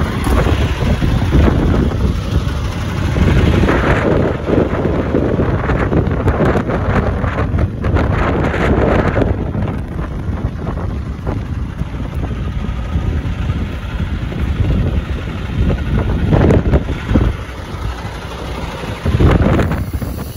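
Gusty spring wind in Iowa batters the microphone with a loud, continuous rushing roar that swells and eases in waves over a deep low rumble.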